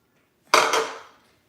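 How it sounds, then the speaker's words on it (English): A metal frying pan set down on a stovetop, one sharp clank with a short ringing decay, close and fairly loud against silence. "I'm gonna bring my pan over and let it start getting hot."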